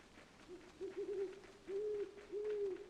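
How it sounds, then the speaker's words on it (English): An owl in Tales of Zestiria gives several low, drawn-out hoots in a repeating pattern, clear and fairly prominent over a quiet ambient background, with no talking. "Man, that is one very loud owl."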